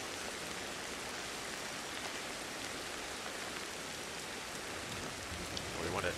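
Steady rain falls in the video game Ancestors, a soft continuous hiss of drops on the ground with no other sounds over it.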